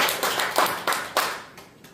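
Applause at a church gathering, heard as a few separate, sharp hand claps spaced at uneven intervals that grow fainter toward the end.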